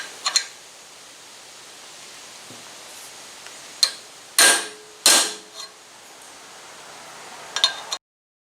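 A hammer strikes a 5/8 inch wrench fitted over the pickup tube of an oil pump for a 383 stroker engine, giving a few sharp metallic taps, spaced irregularly and close, against quiet background hiss.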